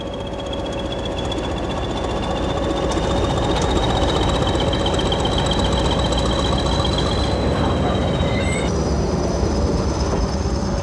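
A Class 20 diesel locomotive hauls the Mixed Shipmans train into the Mid-Hants Railway at Alton. Its engine gives a steady, loud, continuous drone with a thin whine running over it, and no one speaks.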